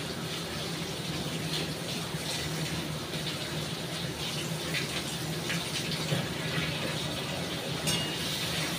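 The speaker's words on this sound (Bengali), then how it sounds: "দেখো চিকেন ভালো করে ধুয়ে নিই।" Tap water gushes steadily while chicken is washed in a kitchen, with a continuous splashing hiss and small clatters throughout.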